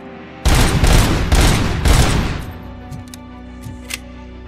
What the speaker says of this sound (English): Firing squad of light machine guns.